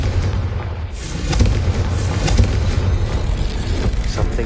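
A Confringo spell explosion in the Hogwarts Legacy video game, heard as a loud booming blast with a sustained rumbling roar and crackling debris that swells around the middle of the clip and lingers to the end.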